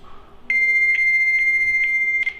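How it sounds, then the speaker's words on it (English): A fax machine answers a phone call with a loud, steady high-pitched tone that begins abruptly and holds, pulsing slightly every half second or so. "It's a fax machine."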